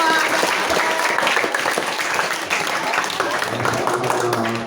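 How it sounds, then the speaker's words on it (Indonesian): A school audience at a Ramadan religious study gathering claps in sustained, loud, dense applause that fades slightly toward the end. "Tepuk tangan buat Mbak Didi."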